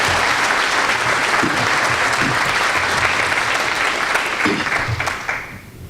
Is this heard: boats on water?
no